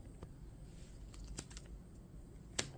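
Playing cards shuffled during a solo session of the Heroes of Might & Magic III board game, heard as faint, quiet riffling with a few sharper snaps and one louder card slap near the end, with no talk.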